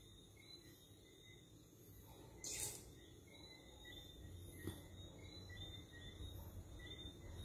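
A train rumbles past at a distance with a faint metallic squeal, steady and low, with a brief sharper burst partway through.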